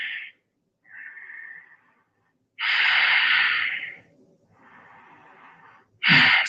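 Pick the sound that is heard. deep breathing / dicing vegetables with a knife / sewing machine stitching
deep breathing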